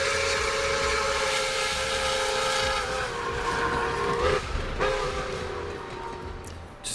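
A loud train sound effect plays, a steady steam-whistle blast holding a chord over rumbling rail noise, wavering briefly midway before cutting off, with no talking.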